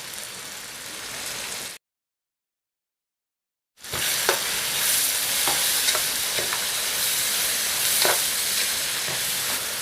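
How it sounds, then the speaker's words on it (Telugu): Tomatoes and salt stirred in a pot for a Nellore-style fish curry, a dense steady sizzle with scattered scraping stir strokes, briefly cut to silence near the start, no one talking. "ఇవి కూడా బాగా మిక్స్ చేస్తాను"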